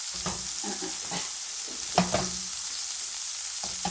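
Salmon frying in a pan until golden brown and crispy, a close steady sizzle broken by stirring and scraping clatters, with a sharp knock partway through, no voices.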